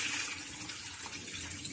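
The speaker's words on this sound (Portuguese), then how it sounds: "Agora eu vou retirar essa água." Hot water is drained off a scalded chicken in a kitchen, making a steady splashing, running-water pour close by with no talk.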